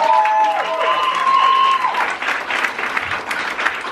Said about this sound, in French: on peut applaudir tous ces gens qui ont donné pour la cagnotte